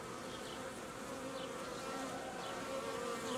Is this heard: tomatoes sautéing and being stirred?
no